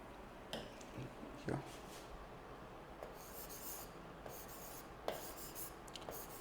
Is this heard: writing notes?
yes